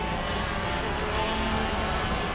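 Shifter kart engines screaming at high revs during a senior kart race, a dense continuous racing roar with no gaps.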